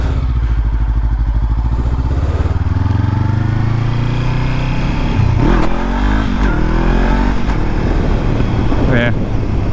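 A motorcycle engine close by, revving in bursts with a couple of rising pulls as the rider tries to launch in first gear, over a steady idle rumble, with voices talking over it.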